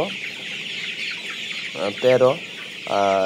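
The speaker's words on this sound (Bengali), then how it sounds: "এখানে মুরগি আছে 700 মুরগি ছিল" Chickens on a meat poultry farm holding about 700 birds cluck in short bursts over steady barn background noise, with a louder, closer call near the end.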